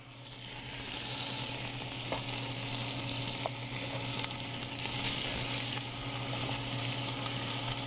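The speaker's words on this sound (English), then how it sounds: "I'm gonna drop in my meat so it can give a nice sear." Meat sears in a hot pan with a steady, loud, close sizzle and crackle, and faint stirring clicks now and then, with nobody talking.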